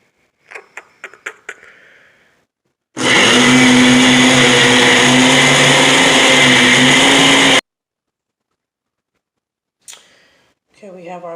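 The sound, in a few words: blender pureeing jerk chicken sauce mixture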